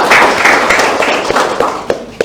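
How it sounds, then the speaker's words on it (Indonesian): A studio audience at a televised regional parliament dialogue forum claps, a dense burst of hands that fades into a few scattered, sharper single claps. "Boleh tepuk tangan semuanya."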